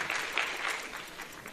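Brief audience applause at a graduation ceremony for medical school graduates, a soft, fairly distant patter of many hands that tapers off slightly over a second and a half.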